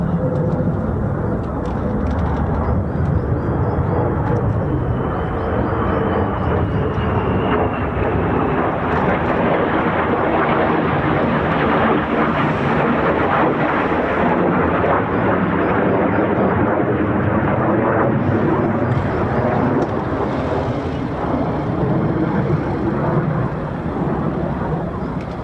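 US Air Force F-35 fighter jets of the 48th Fighter Wing fly past at RAF Lakenheath, a loud, broad roar that builds and stays sustained across the whole stretch before easing slightly.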